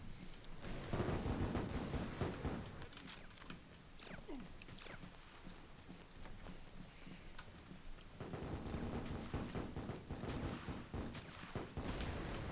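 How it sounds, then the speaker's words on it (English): Mortars firing in the toy-soldier war game Attack on Toys, a dense, continuous barrage of booming launches and explosions layered over constant battle noise, loud and unbroken throughout. "Now we just got to keep those mortars firing."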